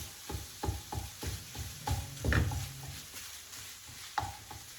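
Ground pork browning in a pan over a medium flame, with a soft steady sizzle under repeated clicks and scrapes of a utensil stirring the meat.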